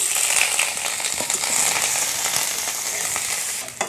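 Dried red chillies and grated ginger frying in white oil in a kadai, a steady bright sizzle with faint crackles running evenly throughout, close and fairly loud with no talking.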